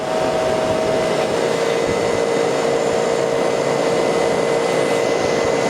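An old 1979 Emerson Quiet Kool window air conditioner runs with a steady, loud whooshing drone and a faint mechanical hum, unbroken throughout.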